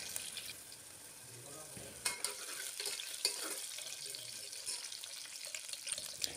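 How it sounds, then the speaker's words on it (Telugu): Chopped onions and green chillies crackling in hot oil as a spoon stirs them, a quiet steady sizzle with occasional scraping clicks from the stirring, close up and without speech. "పచ్చిమిరపకాయలు ఉల్లిగడ్డలు వేసి కలుపుకొని 2-3 నిమిషాల పాటు ఉడకనియాలి"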